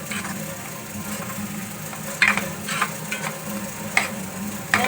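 Onion, tomato, garlic and ginger masala for chicken gravy cooks in a pan, with a low continuous sizzle broken by a few sharp stirring clinks, close by.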